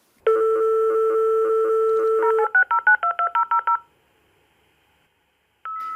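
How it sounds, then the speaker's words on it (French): Loud dial-up modem dialing tones ring out, a long steady pattern followed by a quick run of separate beeps, then silence and one more tone. "le modem faisait un drôle de bruit de sonnerie et de grésillement"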